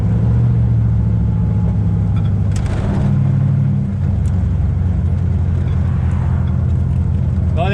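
Old hot rod engine running smoothly and quietly after sitting unused for 50 years, a steady low rumble throughout with a brief swell midway and a voice talking over it.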